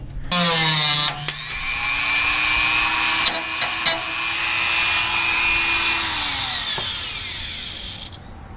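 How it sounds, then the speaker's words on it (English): Dremel rotary tool cutting out a floor panel on a Ford F100 truck: a high whining motor starts, bites into the metal with a sustained shrill grinding for several seconds, then winds down, close and loud. "I'm just going to go ahead and cut this guy out with the Dremel"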